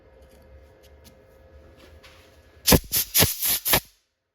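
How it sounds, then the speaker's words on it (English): Razor knife cutting inlay material from the bottom of a turned wooden bowl, a cluster of five or six sharp, close scraping slices in quick succession after a quiet stretch. "grab a razor knife and cut those out from the bottom"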